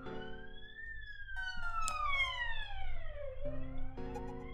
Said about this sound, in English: Oh, and now police sirens as well.